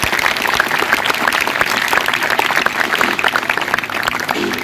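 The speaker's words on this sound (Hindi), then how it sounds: "इसके लिए जोरदार तालियां।" An audience at a school Teacher's Day celebration applauds a student, sustained dense clapping from many hands filling the hall, loud and steady for several seconds with no speech over it.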